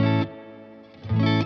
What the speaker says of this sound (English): So now I'm gonna turn the reverb up.